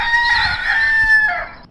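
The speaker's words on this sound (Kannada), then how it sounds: "ಆಮೇಲೆ ಆ ಹುಂಜ," A rooster crows once, loud and close, a single drawn-out cock-a-doodle-doo that rises and then falls away at the end, heard alone.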